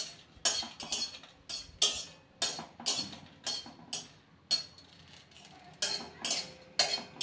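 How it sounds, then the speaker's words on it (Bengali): Three dried red chillies dry roasting in a pan, heard as a series of about a dozen sharp scraping and clinking strokes from a utensil against the pan, quiet and close, no talk. "এগুলো আমি ড্রাই রোস্ট করে নেব।"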